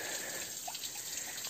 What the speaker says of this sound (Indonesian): jadi ini kayak ada air terjun mini di sini